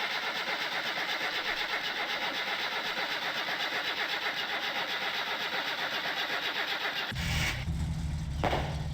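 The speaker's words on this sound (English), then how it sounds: "So we start the car, see what it's running at." A car engine runs steadily with a dense, continuous rumble before cutting to a lower, rougher idle that pulses with a couple of sharp bursts; it is close and loud with no talk, and the choke is set all the way in.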